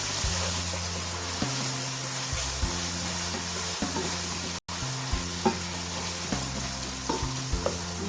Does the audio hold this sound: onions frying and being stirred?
yes